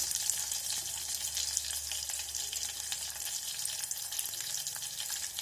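Dried red chillies and curry leaves frying in a pan of oil for a spinach dal tempering, a steady bright crackling sizzle running continuously and evenly throughout, close and moderately loud with no voices.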